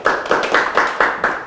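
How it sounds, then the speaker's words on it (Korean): Audience at a church revival conference applauding together, a steady cluster of hand claps with rhythmic surges, fairly close and loud, no talking over it. "박수 한 번 더, 네, 서로를 쳐주시길 바랍니다."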